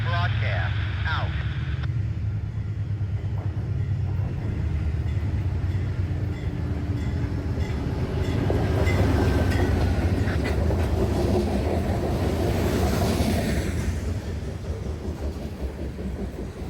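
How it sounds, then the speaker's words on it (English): The CSX L055 freight train rolls past in Boston heading toward the North Terminal, a long, steady rumble of wagons with faint clickety-clack and a gradual fade as it moves off; a voice talks over part of it. "L055, the last freight train that runs into Boston's North Terminal alongside the sand train"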